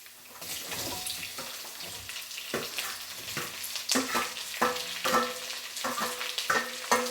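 Onions sizzle and fry steadily with ginger and garlic in a hot pan, with repeated scraping clatters of a spoon stirring at an irregular rhythm, close up.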